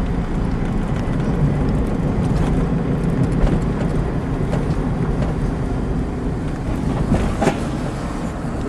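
A converted electric car drives along with a steady, dense rumble of road and drive noise that holds an even level throughout, and no one speaks.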